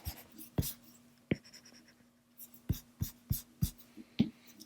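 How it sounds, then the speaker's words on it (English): A pencil line drawing on paper is erased with short, brisk rubbing strokes, a series of close scratchy bursts with brief pauses between them over a faint steady hum. "I'm going to go ahead and erase some lines here"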